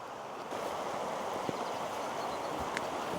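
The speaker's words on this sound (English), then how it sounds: "We've got the rushing stream going by and this big viaduct" A rushing stream flowing beneath Colinton Bridge viaduct in Edinburgh, a steady broadband watery roar, moderately faint and continuous with no voices.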